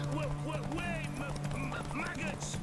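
Roach the horse galloping in The Witcher 3, steady hoofbeats running under near continuous talking from a player.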